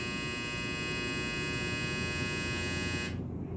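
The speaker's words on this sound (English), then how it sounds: "Okay, that was my dryer." A household clothes dryer runs with a steady, close mains-like hum and faint buzz, continuous and loud, then cuts off abruptly near the end, leaving near silence.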